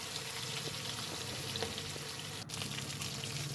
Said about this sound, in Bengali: এরপর মাছটা ভেজে নিচ্ছি